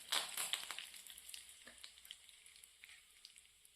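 Mustard seeds, curry leaves and dried chillies sizzle and crackle in hot oil in a pan, sharp pops over a steady frying hiss that settles gradually, close and fairly quiet.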